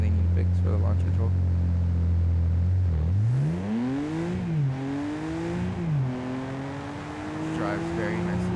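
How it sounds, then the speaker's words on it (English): A BMW M4 pulls away under launch control: a steady engine drone first, then revs climb sharply and rise again in stepped surges as it accelerates hard, loud and close. "I'm gonna attempt to do launch control."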